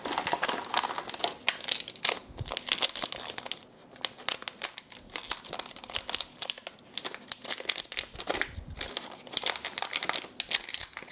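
Close, busy crinkling and rustling of plastic packaging as rotary encoders are unpacked, with irregular bursts of crackle and brief quieter gaps throughout.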